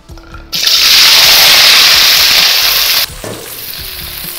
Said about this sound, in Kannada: ಇದಕ್ಕೆ ನಾನು ಒಂದು ಸ್ವಲ್ಪ ಸಣ್ಣ ಸಾಂಬಾರ್ ಈರುಳ್ಳಿ ಹಾಕೊಳ್ತಾ ಇದ್ದೀನಿ.